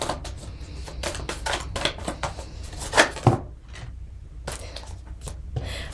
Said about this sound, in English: I'm just going to shuffle and get clear.